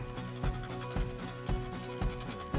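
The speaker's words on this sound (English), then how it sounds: "Now I'm just gonna whisk this back together just to combine it." A whisk scrapes rhythmically through an oil and vanilla mixture in a bowl, with steady repeated rasping strokes and a louder accent about every half second, close and alone with no talk.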